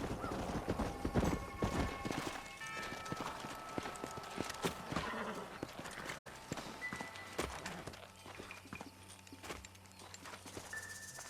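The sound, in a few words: horses walking, hooves clip-clopping, in video game Red Dead Redemption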